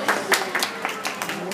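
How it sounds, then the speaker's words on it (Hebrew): An audience claps for performers at a Purim children's magic and potions show in a shopping mall, a steady patter of many hands with sharper bursts, reasonably close and continuous. "תמחאו להם מחיאות כפיים בבקשה."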